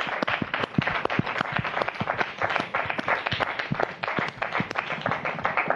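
A television studio audience claps during a 1997 French broadcast, giving a fairly sparse, crisp patter of individual hand claps that stays steady and moderately loud.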